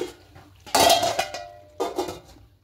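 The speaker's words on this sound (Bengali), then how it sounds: "এবার আবারও ঢাকা দিয়ে দেবো।" A metal lid goes onto a cooking pot in a kitchen, a close clatter and ringing clank followed by a second, softer knock.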